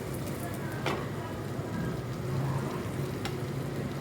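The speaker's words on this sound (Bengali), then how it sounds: "আমি একটুখানি নাড়িয়ে চাড়িয়ে মাছগুলোকে মশলার সাথে মিশিয়ে নিচ্ছি" Fried lote fish is stirred through masala in a pan, giving a soft, steady sizzle with faint scraping underneath, while a voice talks over it throughout.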